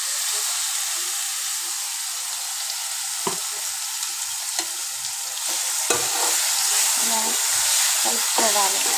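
Continuous loud sizzling of masala-stuffed bitter gourds frying in oil, with occasional clacks of a utensil stirring the pan and a faint voice now and then.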